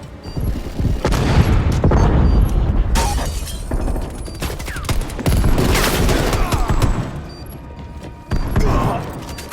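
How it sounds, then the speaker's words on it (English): Heavy gunfire and explosive booms rattle through a Call of Duty match under fire from a hostile sentry turret, rapid bursts and blasts piling up close and loud, easing briefly before another sharp burst near the end. "Hostile sentry turret active."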